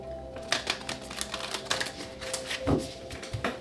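Rapid crisp flicking and riffling of tarot cards being shuffled close by, with a faint steady hum in the background and no talking.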